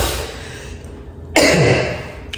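A single sharp cough from a person with a slight throat inflammation bursts out near the end after a stretch of quiet breathing and background noise, close to the listener.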